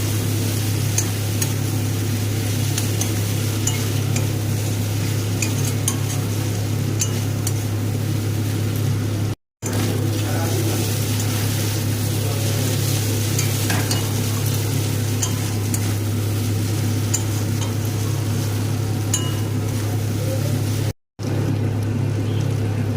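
Capsicum is tossed into spiced masala and stir-fried in a pan for a baby corn dry chilli dish, making a steady, continuous sizzle over a low hum that runs the whole time, broken by two very short gaps.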